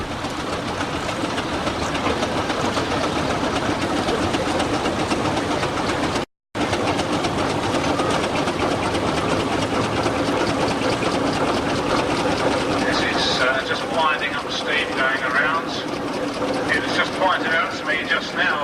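A restored steam traction engine working hard at a 1997 rally in Aldham, a steady loud mechanical rumble with rhythmic clattering running throughout, broken by one brief gap, with a voice speaking over it.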